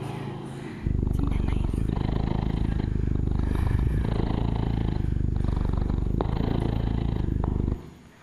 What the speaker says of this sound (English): Oh, that's the cat purring.